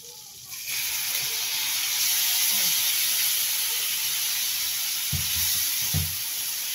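Beef sautéing in butter in a pan, giving off a loud, steady sizzling hiss that starts suddenly and keeps going, with a couple of dull knocks near the end.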